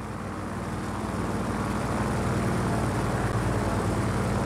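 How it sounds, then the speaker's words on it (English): An aircraft comes in to land in the video game Just Cause 4, producing a loud, steady propeller-engine drone that swells slightly as it continues, with no talking. "Request clearance to land at AGB main runway."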